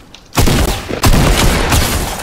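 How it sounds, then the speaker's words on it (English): Rapid gunfire in the video game Fortnite: a quiet lead-in, then loud, sustained bursts of overlapping shots with a brief break near the midpoint, continuing densely to the end. "How did I miss that many shots?"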